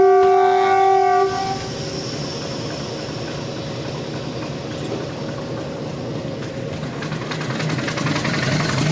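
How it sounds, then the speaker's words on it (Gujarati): A passenger train departing on the Chalala–Dhari–Junagadh line gives a loud, sustained horn blast for just over a second, then a continuous rolling rumble and clatter of wheels and cars as it pulls away. "ચાલો હવે આપણી ટ્રેન રવાના થઈ ચૂકી છે જુનાગઢ તરફ"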